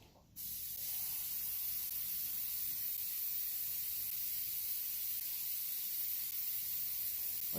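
Continuous airbrush or spray-can hiss laying light coats of acrylic paint, starting after a brief pause and holding steady and close for several seconds with no talking.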